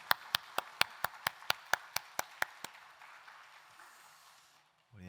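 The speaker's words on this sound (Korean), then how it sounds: "영광의 박수 올려드리겠습니다." A church congregation clapping together in a steady, even rhythm, about a dozen sharp claps that fade into a quiet room, with faint voices near the end.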